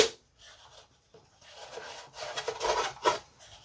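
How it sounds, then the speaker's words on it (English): Hand sanding on wood: rough, rasping strokes come in irregular bursts, growing louder and quicker toward the end, close up. "I'm going to sand this to section"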